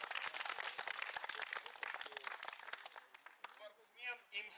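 Audience applause for a speaker at a youth forum, dense steady clapping for about three seconds that thins out as a voice starts talking over the tail end.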